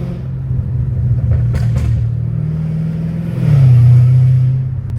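Straight-piped Dodge Hellcat Redeye exhaust rumbling loudly up close, a deep steady roar that swells louder in a rev near the end, with faint rattling from loose exhaust pipes.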